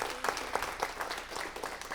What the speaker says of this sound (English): Please, yes, give them a round of applause.